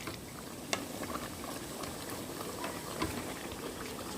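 Chicken being sautéed in a rice cooker gives a steady, close bubbling simmer with soft crackles and a few small spoon taps, continuous and unbroken by speech.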